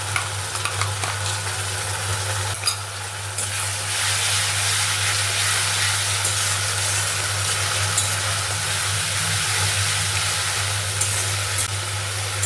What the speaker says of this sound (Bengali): এবার এর মধ্যে দিয়ে দেবো আদা রসুন পেস্ট।